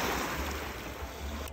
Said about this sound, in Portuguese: E essas ondas se formam do vento.